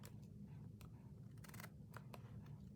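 Scissors trimming paper for a Christmas waterfall journal, several crisp close snips in an uneven rhythm, one quick cluster mid-way, quiet and without talk.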